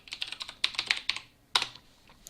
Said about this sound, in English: You'll have to excuse my loud keyboard. I bought it for an exorbitant amount of money because I like the clicky sound it makes.